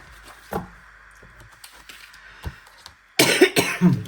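A few scattered single coughs at first, then a louder cluster of harsh coughs near the end, close to the listener.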